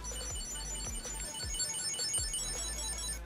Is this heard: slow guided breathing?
no